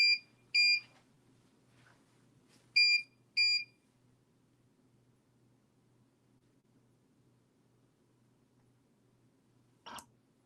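A cutting machine checking its crosshairs and reading registration lines gives several short, sharp electronic beeps, close and clear, in a quick cluster at the start. A click follows later against quiet background hum.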